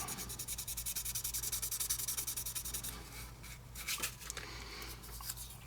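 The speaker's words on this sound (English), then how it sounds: "And then I have a finer sandpaper that traditionally with aluminum, the finer you go," Sandpaper rubs over aluminum-coated resin in quick, even back-and-forth strokes, close and steady, then slows into a few irregular scrapes and a light knock near the end.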